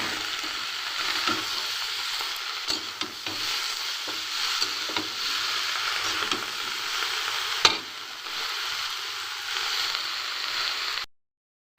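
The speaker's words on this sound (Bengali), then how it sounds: "ভালো করে একটু নেড়ে নিচ্ছি যাতে করে আলুর সাথে সব মশলাটা ভালো করে মেশানো হয়" Potatoes and spices fry in a pan while being stirred, with a steady sizzle and scraping spoon strokes running throughout before stopping abruptly near the end.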